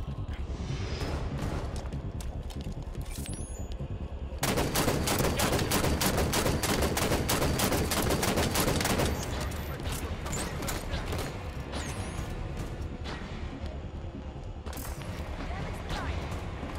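Video-game gunfire rattles in dense, rapid automatic bursts amid mechanical clatter, loudest and most continuous in the middle and then thinning to scattered shots, with some voices mixed in underneath.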